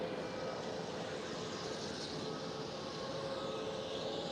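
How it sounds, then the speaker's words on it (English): A TUI Boeing 737 MAX 8 airliner flying for TUI Netherlands at Amsterdam Schiphol gives a steady, fairly distant jet engine roar with a thin whine, continuous and alone. "the next one is TUI UK 737 MAX 8 flying for TUI Netherlands"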